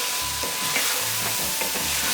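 Cumin powder, garam masala and turmeric sizzle in a hot pan for lamb rogan josh, with a steady frying hiss and a few soft scraping stirs, close and fairly loud, no talking.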